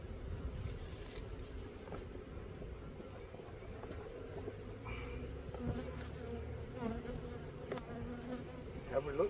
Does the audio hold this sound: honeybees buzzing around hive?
yes